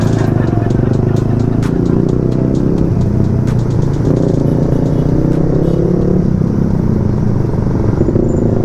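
A loud motorcycle with an aftermarket exhaust rumbles close by on a city street at night, its engine roar dense and continuous under a voice talking over it.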